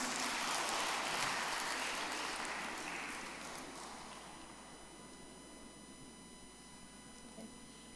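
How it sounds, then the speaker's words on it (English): An audience at a church young professionals' forum gives a dense round of applause that starts loud and steady, then gradually fades over several seconds into quiet room tone. "Okay, a round of applause for him, please."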